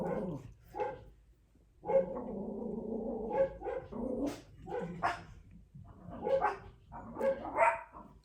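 Several dogs barking outdoors on a sunny day in Illinois, a run of close, loud barks and yips in uneven bursts with short gaps, and no speech.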